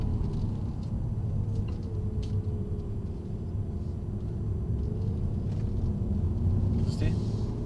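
Mercedes-AMG car driving on a race track, a steady droning engine rumble heard from inside the cabin with people talking over it.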